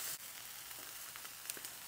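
Diced green bell pepper sizzling in a pan, a steady soft crackle with faint stirring clinks now and then, fairly quiet and with no voices.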